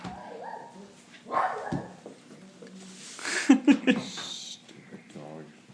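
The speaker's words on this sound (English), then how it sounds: "Dog." A dog barks in a few sharp bursts mid-clip, close and fairly loud, with people talking around it before and after.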